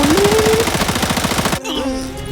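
Rapid automatic gunfire in the video game Arena Breakout, a loud fast string of shots lasting about a second and a half before cutting off abruptly into quieter game sounds.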